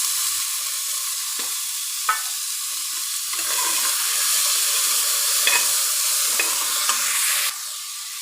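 Field beans being stirred into tomato masala in a hot pan, a steady bright sizzle with scattered scraping stir strokes, close and continuous before the frying noise drops off near the end.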